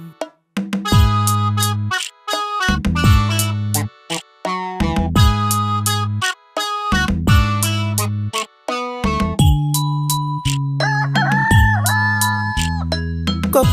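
A rooster crows loudly and close by, repeating its long, rising-and-falling call several times in quick succession with short gaps between each one.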